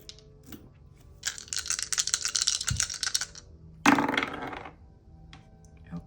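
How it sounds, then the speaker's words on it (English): Astrology dice tumble and rattle in two bursts, a longer clattering roll followed by a shorter, sharper one, close and moderately loud against a quiet background. "we are going to get the astrology dice to close this out"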